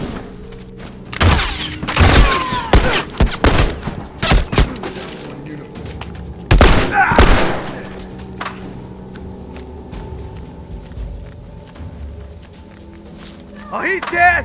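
Rifle gunfire in The Last of Us Remastered multiplayer, with sharp loud shots in irregular bursts and scattered thuds, mixed under excited talk from players.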